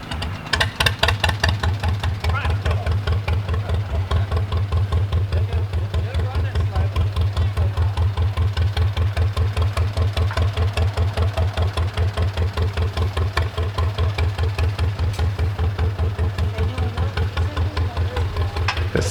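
Old tractors idle at a harvest festival with tractor pulls, peanut threshing and a saw mill, a steady low, rapid engine chug running loud and close the whole time.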